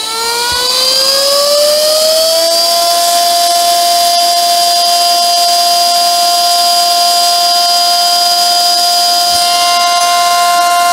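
Compressed air blasting through an Omega Aqua Terra GMT WorldTimer watch part during a service, a loud whining whoosh rising in pitch for about two seconds and then holding a steady tone, close and continuous.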